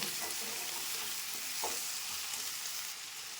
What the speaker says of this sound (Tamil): தக்காளியை போட்டு நல்லா வதக்குவோம்.